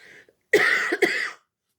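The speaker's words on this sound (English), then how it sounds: "We're getting to that point, aren't we, where I'm going to be coughing." A person coughing: a quiet breathy sound, then two harsh close coughs in quick succession, loud and alone with no talk.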